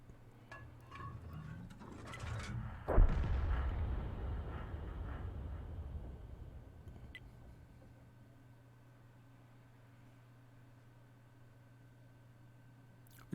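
Artillery gun fired in a tank video game: a single deep boom near the start, then a long rumbling tail that slowly fades into quiet background hiss.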